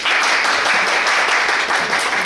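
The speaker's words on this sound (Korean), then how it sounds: "큰 박수로 환영해 주세요" Audience applause welcoming a guest speaker at a university industry lecture, a steady dense wash of clapping that holds evenly at full level throughout without a break.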